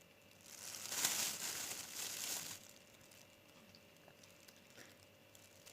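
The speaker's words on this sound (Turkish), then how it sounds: "Bunları poşetlerine koyuyorum." Boiled cowpeas being packed into plastic bags give a quiet crinkling and rustling of plastic for about two seconds, then the handling fades to soft, faint shuffling.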